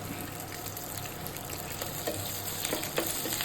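Curry leaves crackle and sizzle in hot oil, a dense, bubbling fry with a few sharper spits near the end.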